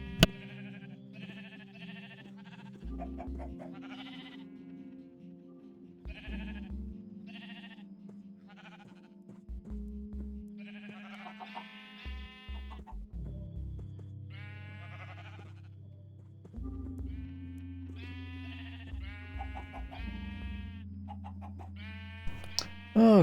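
Minecraft sheep bleat again and again from close by, with clustered calls and short pauses between them over a droning low background, and nobody speaks.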